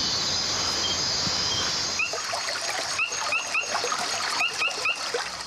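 Cicadas and other insects buzz loudly in a forest reserve at nightfall, a dense steady high drone joined by repeated short chirping calls and faint bird-like notes.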